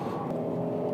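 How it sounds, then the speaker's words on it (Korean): Twin-turbo engine and exhaust of a Genesis EQ900 (G90) luxury sedan revving, a steady low droning hum heard from inside the car, constant and moderately quiet throughout. "지금 이 차는 배기음을 일부러 어느 정도 내놓고 있어요"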